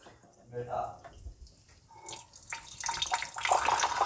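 Water from a mini water filter purifier runs and splashes, starting faint and growing into a steady, louder flow, with a voice talking early on.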